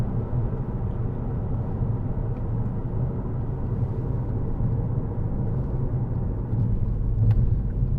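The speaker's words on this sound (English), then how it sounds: "lovely diesel engine, nice Ford gearbox" A 2012 Ford Kuga 2.0 TDCi diesel 4x4 with a Powershift automatic gearbox, driving along with a steady, low engine and road rumble throughout and no talking.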